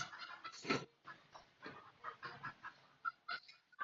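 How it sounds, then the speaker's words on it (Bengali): Chickens cluck and call in repeated short bursts, a faint, somewhat distant flock heard on its own without any talking. "সাউন্ড ক্লিয়ার নাই, পিছনে মুরগির আওয়াজ।"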